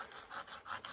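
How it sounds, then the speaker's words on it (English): The small folding saw of a Swiss Army Knife rasps back and forth across a piece of wood, making a fine dust, in three rhythmic close strokes with no talking. "start sawing"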